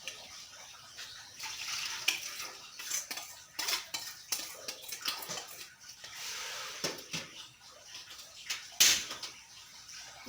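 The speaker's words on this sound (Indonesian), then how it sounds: "Kita aduk sampai rata." A spoon stirs homemade plant tissue culture medium in a cooking pot, giving repeated close metallic clinks and scrapes against the pot, with soft liquid swishes between them and a sharper clank near the end.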